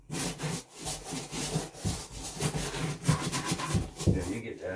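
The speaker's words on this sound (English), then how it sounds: "we're going to take cleaner, awesome, and we're going to scrub it real good" Moldy old boots being scrubbed with cleaner and a brush, giving a steady rough rubbing and scraping that runs continuously and fairly close, with brief pauses between strokes and voices talking over it.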